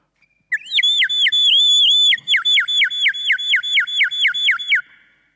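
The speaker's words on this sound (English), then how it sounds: "when it reached the right time, it starts whistling something like this." An ancient Greek water-powered whistling device sounds a loud, sustained whistle that breaks into a rapid run of about a dozen repeated warbling chirps, close and alone with no talk.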